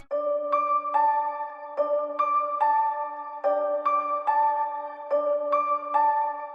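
Slow, halftime ambient bell sample built in FL Studio, a repeating pattern of soft chime-like tones with a steady low sustained note underneath, struck about every three-quarters of a second, clear and alone.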